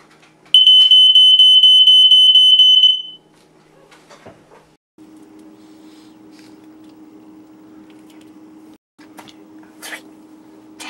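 A battery-powered smoke detector with a built-in emergency light is tested: one loud, piercing electronic tone holds for about two and a half seconds, then cuts off, leaving a low steady hum and a few faint clicks.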